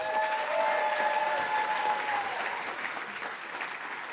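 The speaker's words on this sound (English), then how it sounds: "can we give him a big round of applause?" An indoor audience at an anniversary event applauds an honoree, a full, steady round of clapping with a few cheers that eases slightly toward the end.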